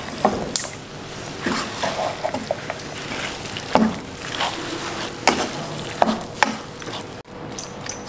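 Chicken thoran being stirred in a pan over a medium flame: a soft frying sizzle broken by irregular scraping and clacking strokes of the spoon, close and fairly loud.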